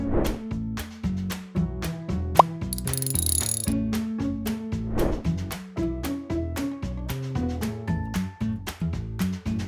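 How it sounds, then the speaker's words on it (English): A torque wrench tightens the brake bolts on a car wheel during a front brake pad replacement on a Kia Ceed mk2, with close, rapid metallic ratchet clicks and brief pauses. "Finish off the tightening with a torque wrench."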